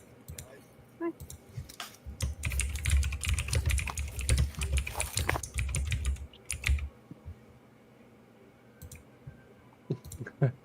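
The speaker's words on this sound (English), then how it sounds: "Somebody was typing." Rapid keystrokes clatter on a computer keyboard for several seconds in a dense, busy burst, then thin out to a few scattered clicks, close and fairly quiet.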